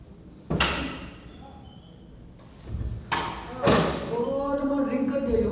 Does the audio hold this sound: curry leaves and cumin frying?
no